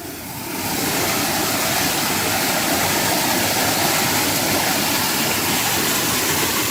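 A waterfall near Kottakudi village in Theni, India roars continuously and loudly, a dense rushing wash of falling water that swells in within the first second and holds steady.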